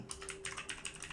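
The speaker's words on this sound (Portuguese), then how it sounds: "Eu vou estar digitando o nome" Rapid keystrokes on a computer keyboard while a name is entered into a shell script's search prompt, a steady close run of soft clicks with no talk over it.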